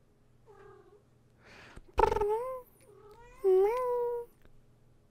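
A cat meows several times nearby, a short cry followed by two longer, louder drawn-out yowls with brief pauses between them.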